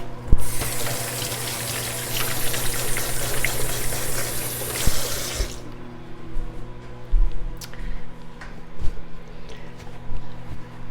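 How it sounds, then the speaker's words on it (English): Water runs from a kitchen tap as hands are washed under it, a steady loud hiss for about five seconds before the flow shuts off, leaving quieter room noise and light handling sounds. "I'm gonna wash my hands."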